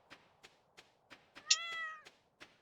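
A Stardew Valley cat meows once in the game, a single drawn-out tonal mew about half a second long, set among a regular series of soft footstep-like taps, quiet and with no talk.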